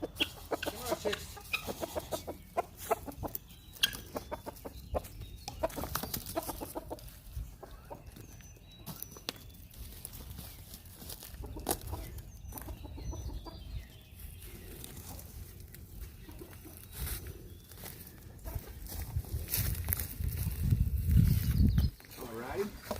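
Chickens cluck and murmur around their feed of scratch grains, with a person speaking and calling to them over the birds and some scuffling noise near the end.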